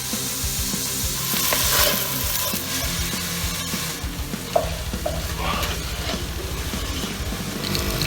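Vegetables frying in oil for lasagne, a steady crackling sizzle with rhythmic scraping and stirring from a utensil in the pan, close and continuous.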